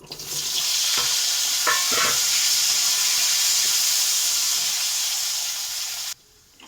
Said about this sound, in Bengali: এবার আলুটা আমি লাল লাল করে ভাজবো